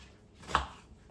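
A single soft knife stroke through an onion, faint and close, a brief isolated chop in a quiet kitchen.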